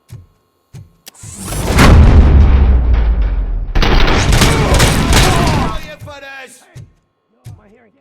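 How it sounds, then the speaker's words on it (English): Gunfire and heavy blasts from the RoboCop: Rogue City video game, a dense loud burst of several seconds broken by short sharp bangs, with game voices speaking around it. "Am I hearing gunshots?"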